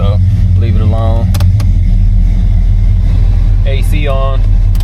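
A 1969 Buick Electra with its engine running steadily, a loud low idle rumble filling the clip while people talk over it.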